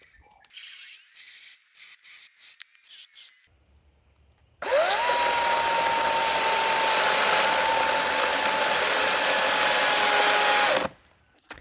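An AEG 58V battery chainsaw cuts through wood, first in a few short bursts, then in one long, loud, steady cut of about six seconds with a sustained motor whine. No one speaks.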